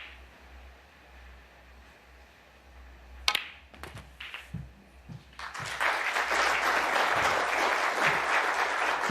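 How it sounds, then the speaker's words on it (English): Snooker crowd in an arena breaks into applause after a quiet stretch, a few sharp knocks first, then steady clapping building and holding to the end. "The applause not for Selby's routine 22. shot there"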